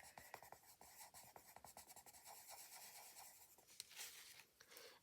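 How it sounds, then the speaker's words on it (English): Soft scratchy strokes of a Modulars coloured pencil across paper, steady and close, with short repeated scribbling bursts. "So these are the Modulars colouring pencils."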